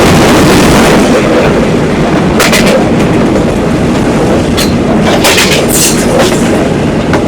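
A crowded local train at a busy railway station in Gafargaon rumbles loudly and continuously, a dense roar with scattered sharp clanks and rattles layered over it throughout.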